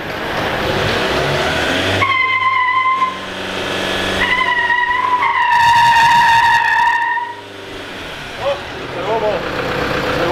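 Ford Ranger and Toyota Hilux pickups spin their tires at a drag-race start, loud engines revving with rising whines and tire squeal close by, while people talk and shout over the noise.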